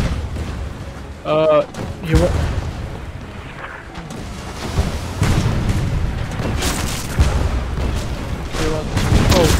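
Ship cannon fire in the video game Blazing Sails, heavy booming blasts among battle noise, with players talking and shouting throughout.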